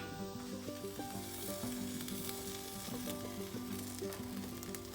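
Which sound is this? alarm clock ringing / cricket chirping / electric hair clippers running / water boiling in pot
water boiling in pot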